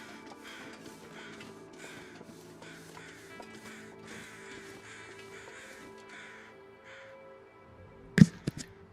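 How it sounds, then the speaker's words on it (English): Crows cawing in The Long Dark, a few sharp calls bursting out near the end over a low steady ambient bed of wind and game atmosphere. "those sounded kind of like some overhead crows"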